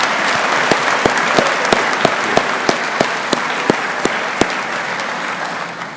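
Steady, loud audience applause at a graduation ceremony for a technical college class, a dense wash of clapping hands with sharp periodic accents standing out from the crowd, sustained evenly for several seconds before easing slightly at the end.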